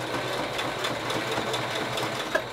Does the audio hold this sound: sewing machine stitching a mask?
yes